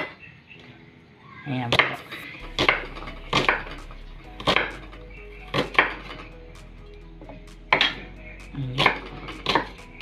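Onion being chopped on a cutting board while preparing fish soup with moringa leaves, a series of sharp knife chops in uneven bursts close up, with a few quiet spoken words in between.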